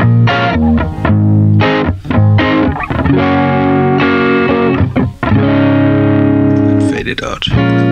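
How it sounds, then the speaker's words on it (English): An electric guitar plays through a Fender Mustang GTX amp as a distortion effect is faded in with a Fender EXP-1 expression pedal, loud sustained chords with gaps between strums and a gritty, saturated tone. "Now I fade in the distortion."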